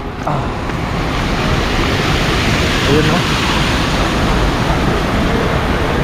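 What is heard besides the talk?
strong river water current flowing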